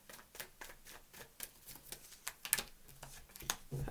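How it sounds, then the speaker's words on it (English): Playing cards are shuffled with soft, irregular riffling and flicking, a series of quick papery snaps, close and fairly quiet. "Two more shuffles."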